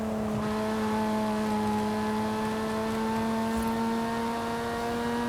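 A Lotus Emira fitted with a new Mercedes-AMG engine, racing in Forza Horizon 5, gives a steady, loud, droning engine note with a strong constant tone as it holds speed. No one speaks.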